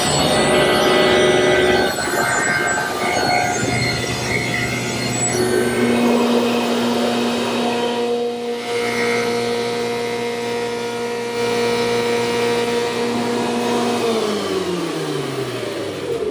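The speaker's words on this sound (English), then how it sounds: "So with the saw, I'm going to make a cut this way and this way to get the bulk of it." A power saw cuts an oak molding blank in a woodworking shop with a steady, loud whining drone, then its pitch sinks as the blade winds down near the end.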